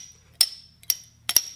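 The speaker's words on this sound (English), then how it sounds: "you'll get that water hammer effect all of the time" A water hammer toy, water sealed inside a glass tube, gives three sharp glassy clinks as the water slams against the ends, close up and alone, with a faint steady hum underneath.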